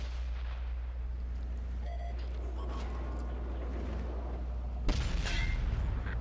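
A heavy tank cannon fires once in World of Tanks, a sharp loud blast arriving late over a constant low engine rumble and scattered distant battle noise.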